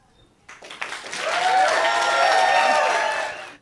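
Wedding guests break into applause after a toast at the Shade Hotel, a sudden burst of many hands clapping that swells quickly and holds steady, loud and close, with a few voices mixed in.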